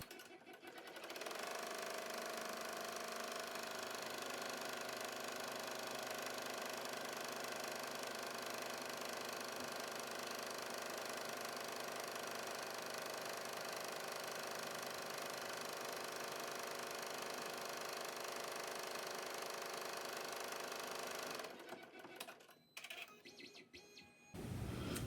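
An embroidery machine stitches the tack-down on a hoop-made contour mask, giving a steady, close mechanical hum for about twenty seconds before stopping, followed by a few light handling clatters and no speech.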